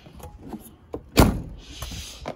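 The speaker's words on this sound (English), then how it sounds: "it would help if I closed that door properly" A Land Rover Defender 90 TD5 station wagon door is shut with a single firm, close thud midway through, bracketed by faint handling clicks and rustles.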